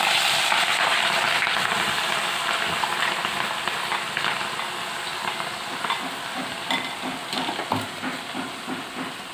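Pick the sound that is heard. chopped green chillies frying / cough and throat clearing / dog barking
chopped green chillies frying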